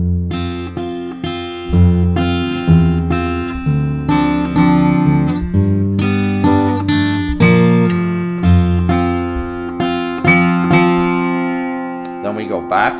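An acoustic guitar plays the closing measures of a song, with fingerpicked chords and bass notes ringing in a slow, steady rhythm, close and clear, and a final chord that fades out.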